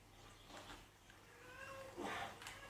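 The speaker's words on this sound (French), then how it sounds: "c'est celui que vous entendez miauler, c'est mon chat" A cat meows faintly twice, a short call followed by a longer, rising one, over a quiet background hum and Assassin's Creed Rogue game audio.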